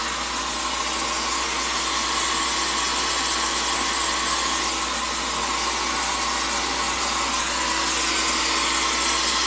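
A blow dryer fitted with a diffuser runs on hair in a steady, unbroken whir with a constant hum, close and loud throughout with no talking.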